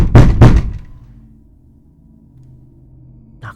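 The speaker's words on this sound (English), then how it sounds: "Knock, knock, knock, knock, knock, knock, knock," A door knocked on twice in quick succession, loud, heavy thuds up close, followed by a low lingering hum and another faint thump near the end.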